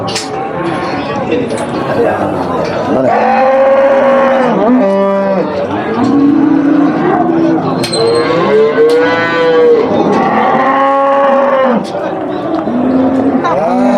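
Several loud, drawn-out cattle moos follow one another, close by, with a person speaking in the background at times.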